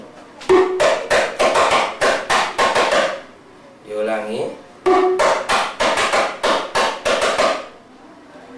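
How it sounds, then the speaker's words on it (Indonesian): A ketipung (soprano 2) rebana frame drum plays basic strokes in two rhythmic runs of sharp, close hand hits, separated by a short spoken word. "pukulan dari ketipung atau sopran 2. Kalau diulang 1 putaran berbunyi seperti ini."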